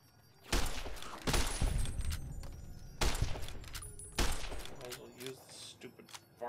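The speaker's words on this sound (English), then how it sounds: "varmint rifle" Varmint rifle fired in the video game Fallout: New Vegas, a handful of sharp shots at uneven intervals, each followed by a short decaying tail, with a voice talking over parts of the sequence.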